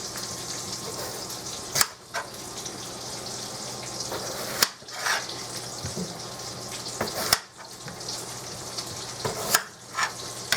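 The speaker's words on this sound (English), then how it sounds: "I got the bacon still cooking back here," Bacon sizzles steadily in a pan toward the back of a home kitchen, a constant hiss punctuated by a few sharp thuds and clatters nearby.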